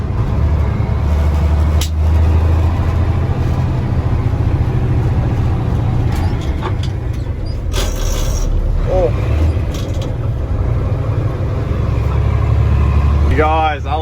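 An old stock car engine on a farm idles and revs steadily toward about 1700 rpm, a loud continuous low rumble throughout with some mechanical clatter and people talking over it.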